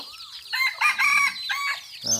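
A white-eared bantam rooster crows loudly and close, a drawn-out harmonic call followed by a short burst of clucking, with no talking over it.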